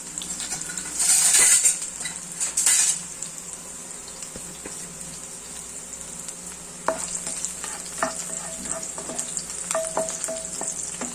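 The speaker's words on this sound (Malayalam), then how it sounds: "ഒരു കറിവേപ്പിട്ട ഇത് നല്ലതുപോലെ ഒന്ന് ജസ്റ്റ് ഒന്ന് വഴണ്ട് വരുമ്പോഴത്തേക്ക് എണ്ണയ്ക്കത് നല്ലൊരു മണം വരും" Curry leaves fry in hot oil for a beans pepper fry, with a steady close sizzle and crackle, louder bursts early on and occasional clinks of a utensil in the pan.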